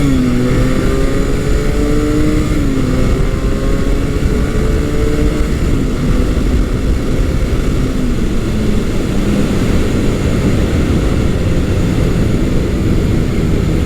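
Classic Honda motorcycle riding down the road, its engine droning loudly and continuously with pitch rising and shifting through gear changes, wind rush over it.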